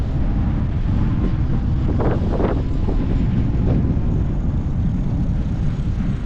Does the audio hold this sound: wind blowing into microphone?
yes